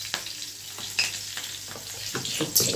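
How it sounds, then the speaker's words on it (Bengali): Panch phoron tempering with two dried red chillies and green chillies sizzling in hot oil, a steady close sizzle broken by a few sharp spatters and stirring scrapes. "দেখো আমি 5 ফোড়ন দিয়েছি, শুকনো লঙ্কা দুটো দিয়েছি আর কাঁচা লঙ্কা দিয়েছি।"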